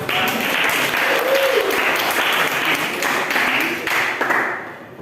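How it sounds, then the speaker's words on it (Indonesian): A classroom of students claps together in a steady, fairly loud burst of applause that carries on evenly for several seconds before tapering off. "Tepuk tangan dulu buat kalian."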